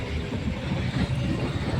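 A train rumbles low and heavy past the closed Bhildi railway level crossing, a brief continuous roar heard from nearby with no speech.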